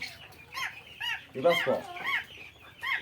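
Chickens clucking on a poultry farm of about a hundred birds, several short overlapping clucks and calls close by, with someone speaking over them.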